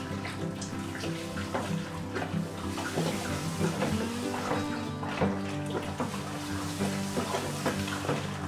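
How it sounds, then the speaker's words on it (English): A mash paddle stirs grain into whiskey mash, giving continuous close sloshing and swishing of thick liquid with irregular splashy strokes. "let's start stirring in some of this grain"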